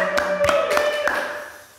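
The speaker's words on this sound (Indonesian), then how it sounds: "tepuk tangan buat Robertus Keniko" A handful of separate hand claps on a talk show welcoming a guest, sharp distinct strikes over a sustained musical tone that fades out.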